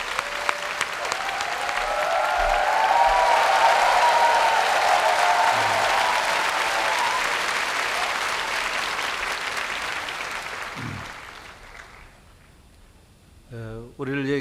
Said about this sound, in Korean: 박수로 맞이하시기 바랍니다.